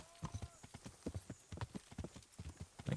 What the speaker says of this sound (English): There's a stampeded horse.